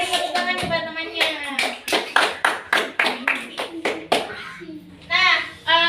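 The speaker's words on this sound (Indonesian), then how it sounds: "beri tepuk tangan kepada temannya" Schoolchildren in a fifth-grade classroom clap for a classmate, a loud, rhythmic burst of close hand claps with kids' voices chattering in and around it, someone speaking clearly at the end.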